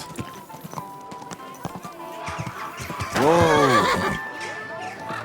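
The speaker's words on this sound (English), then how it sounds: "Easy, good horse." A horse whinnies loudly in a long, shaky neigh in the video game Kingdom Come: Deliverance II, preceded by hoof clip-clops and a few short clicks; a voice speaks briefly earlier.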